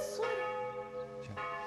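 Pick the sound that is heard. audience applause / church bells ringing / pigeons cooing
church bells ringing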